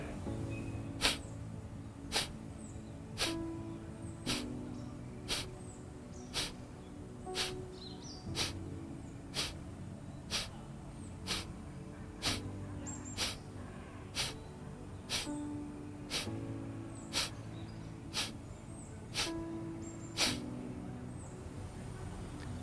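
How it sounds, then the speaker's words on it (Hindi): Forceful breaths are pushed out sharply through the nose at a steady, even pace in a beginner yoga breathing exercise, about seventeen distinct bursts in a quiet room with no talking. "लंबी गहरी सांस लें और सांस छोड़ते हुए नाभि को अंदर खींचें और जोर से सांस को छोड़ें"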